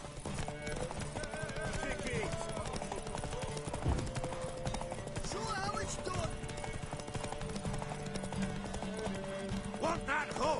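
Horse hooves clip-clop steadily in The Witcher 3 on PS5, a continuous rhythmic trotting under game music and ambience, with a brief whinny and voices speaking intermittently over it.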